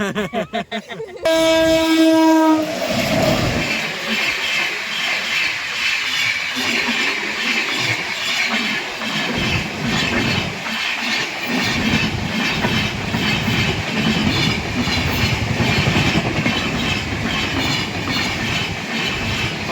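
A train rumbles steadily along the rails with continuous clattering and rushing noise, loud and close, after a brief horn-like tone at the start.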